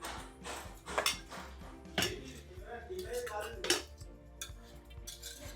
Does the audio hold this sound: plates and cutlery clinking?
yes